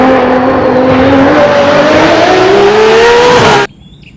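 A toy race car gives off a loud electronic engine roar with a rising, revving whine that climbs steadily and then cuts off abruptly, alone and close by.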